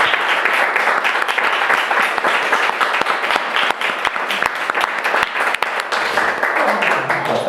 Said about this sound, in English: Final massive round of applause for Tanya, for Antonio, for Anya, for Sophie